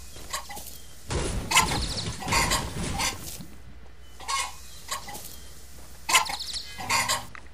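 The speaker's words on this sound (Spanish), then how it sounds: "Vamos a ver las gallinas como cascarean." Chickens in the video game Hytale cluck in a string of short, separate bursts, with a few louder calls bunched near the start and sparser clucks later, all clear and close with no talk over them.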